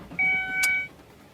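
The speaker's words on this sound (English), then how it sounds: "here's a startup for you. The most annoying beep for a car" A 2003 Ford Escape gives a short electronic warning beep at startup, one brief tone over a quiet cabin, followed by a sharp click.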